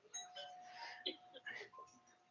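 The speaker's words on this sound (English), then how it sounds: "He's probably going to ring the doorbell." An electronic doorbell chime rings indoors, a few soft melodic tones with a steady faint hum beneath.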